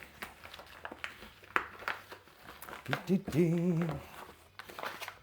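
Close, soft crinkling of a foil packet being handled and rubbed, with a brief low hum partway through.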